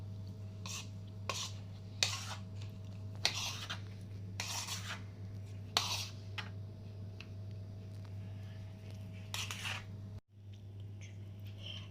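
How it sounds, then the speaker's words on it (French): Couscous tabbouleh with vegetables and olive oil being stirred in a dish for an Algerian Kabyle ameqfoult, giving soft irregular scraping and rubbing strokes over a steady low hum, with a brief quiet dip near the end. "Je vais mélanger."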